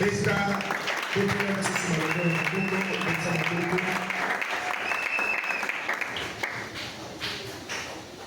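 A church congregation applauding steadily throughout a thanksgiving service, dense and close, with voices mixed into the clapping and the applause fading slightly toward the end.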